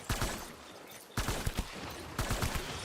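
Loud bursts of gunfire in the video game Death Stranding Director's Cut, three rapid volleys of close shots separated by brief pauses, with no voices.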